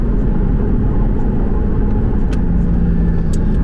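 A Porsche fitted with a SCART exhaust and sport exhaust system, driven in sport plus mode, pulls hard with a loud, steady engine roar filling the cabin and a brief shift blip near the end.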